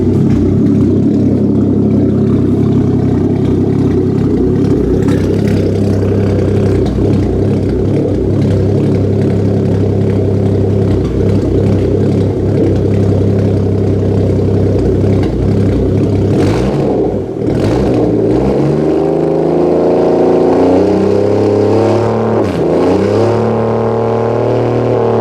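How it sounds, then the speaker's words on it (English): Toyota 2JZ engine fitted in a Nissan 240SX with a single turbo, a loud, throaty exhaust idling close by with a steady deep rumble, then rising and falling in a few quick revs near the end. "Exhaust is definitely a little bit throatier."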